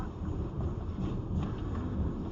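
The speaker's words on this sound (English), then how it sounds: "Earthquake sounds crazy." A deep, continuous rumble with roaring noise fills a dashcam recording on a road during an earthquake, steady and loud throughout with no clear breaks.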